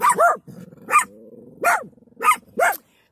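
Dogs bark in short, loud, close-up yaps, five sharp barks with low growly rumbles between them.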